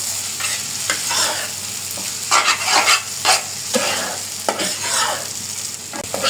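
Noodles with fried chicken and egg are stirred in a hot pan, giving a close, steady sizzle broken by repeated scraping strokes of the spatula, with no talking.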